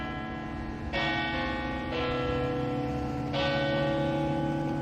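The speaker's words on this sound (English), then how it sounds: "Church bells were ringing all the time." Church bells ring with sustained, overlapping tones, a new strike arriving every second or so over a steady hum.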